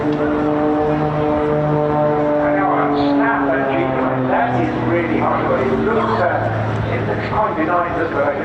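A display aircraft at the Bournemouth Air Festival drones overhead at an air show, its engine tone slowly sliding in pitch beneath continuous commentary.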